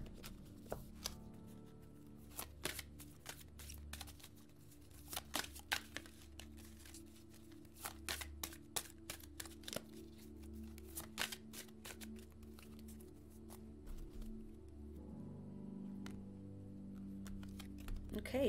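Tarot or oracle cards are shuffled by hand in quick, soft riffling bursts with scattered crisp flicks, close and quiet under a low steady room hum.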